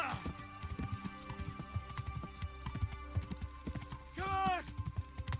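Horse hooves clip-clop in a steady rhythm in the medieval video game Kingdom Come: Deliverance, with a short whinny near the end and a voice talking faintly underneath.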